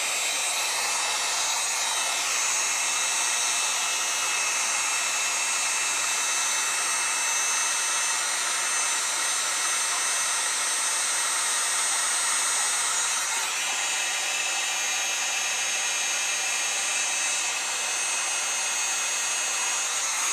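A heat gun roars steadily as it warms an Osage orange longbow limb to correct its alignment, a loud unbroken blowing hiss held close for the whole stretch.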